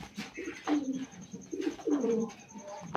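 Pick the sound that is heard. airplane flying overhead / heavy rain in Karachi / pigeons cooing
pigeons cooing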